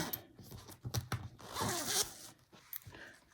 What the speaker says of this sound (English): Here's the zipper.